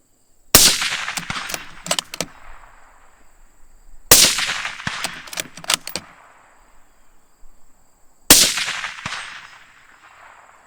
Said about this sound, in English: See how quick I can get 3 shots off.